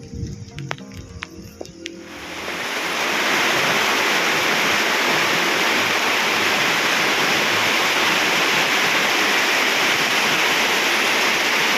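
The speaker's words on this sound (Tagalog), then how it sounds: "Biglang lakas ang ulan." Heavy rain on a farm swells suddenly after a few scattered drops and clatters, building within seconds into a loud, dense, continuous roar that keeps pouring steadily.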